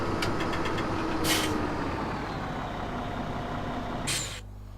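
A tractor engine rumbles steadily at close range in Farming Simulator 17, with two short hissing brake releases, one early and one near the end, before the engine drops to a quieter idle.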